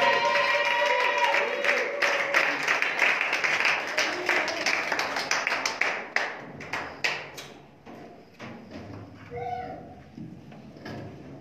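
A church congregation at an evangelism gathering applauds to acclaim the Lord. Dense clapping under singing and voices gives way to scattered, tapering claps, then quieter talk.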